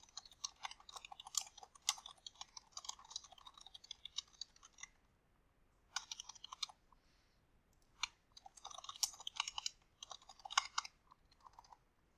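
Typing on a computer keyboard while entering checkout details for an online order, heard as close, quick bursts of light clicking keystrokes in several runs separated by short pauses, with no talking.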